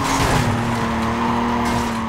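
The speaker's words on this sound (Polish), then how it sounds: "Przypomina mi się dźwięk właśnie Eclipse'a z Need for Speed" A game car engine roars continuously while tires squeal and skid through a corner in the racing game Need for Speed Carbon, loud and close with no talk.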